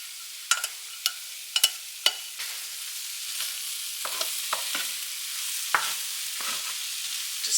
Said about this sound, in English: Now I'm going to add my cooked rice into that skillet.